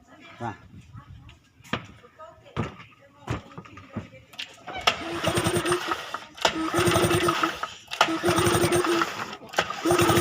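A Yamaha 15 outboard motor with no ignition spark is cranked repeatedly, sputtering and turning over in uneven bursts without catching, with someone speaking over the noise.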